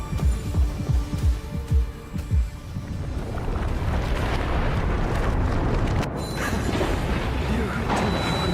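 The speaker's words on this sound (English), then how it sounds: "Why am I hearing a heartbeat?" A throbbing heartbeat in the video game Honkai: Star Rail, a run of loud, deep, evenly spaced thumps that gives way to a heavy, rumbling ambient drone.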